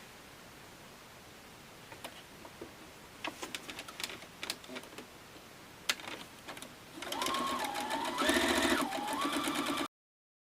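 A home sewing machine stitches quilt patches into four-patch units: scattered handling clicks and rustles first, then a steady, loud mechanical whir for the last few seconds, its motor pitch rising and falling.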